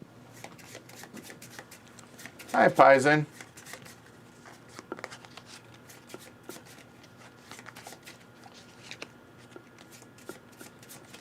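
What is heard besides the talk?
shuffling the discard pile of board game cards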